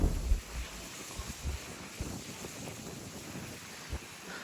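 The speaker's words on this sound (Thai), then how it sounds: "ลมแรงมากเลยนะทุกคน" Strong gusty wind at Sanqing Mountain in China buffets the microphone in uneven low rumbling surges, with a louder blast at the start.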